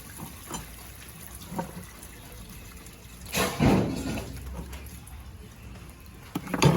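About five gallons of water pours out of a container at a small engine repair scrapyard, a brief splashing gush rising over faint background noise, with a few lighter splashes around it.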